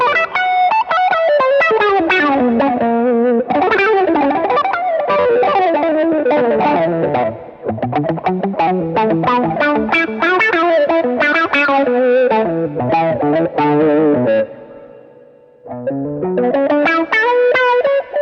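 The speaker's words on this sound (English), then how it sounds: "on control 2, we have the overdrive pedal again, which just gives it a bit more bite and a bit more gain" Electric guitar run through a Boss GT-1000's touch wah and overdrive, playing a continuous funky riff of driven, gritty notes with sweeping filter movement, loud and alone, with two brief pauses near the middle and end.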